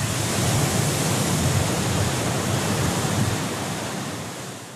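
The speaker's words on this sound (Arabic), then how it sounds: "ضربت عشية اليوم أمواج عاتية كورنيش عند دياب وغمرت مياه البحر بعض المنشآت والمسابح" Huge Atlantic waves pound the Casablanca corniche in a dense, continuous roar of surf, loud and steady, fading slightly toward the end, with no voices.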